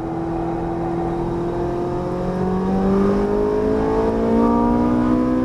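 A Ferrari 458 Italia on a race track accelerates hard, its engine a loud, smooth howl with tones that climb steadily in pitch as the revs rise, heard continuously without talk.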